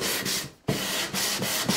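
Wood is sanded by hand with 220 grit sandpaper, brisk rhythmic scratchy rubbing strokes about four per second, close and loud with one brief pause.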